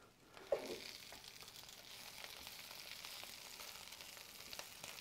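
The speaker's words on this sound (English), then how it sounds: "I'm just going to slowly introduce all of that chopped up kale. And start mixing it around as quick as possible" Chopped kale frying in a heated pan on low heat while being stirred, a soft steady sizzle with a sharp clink early on and faint scraping movements throughout.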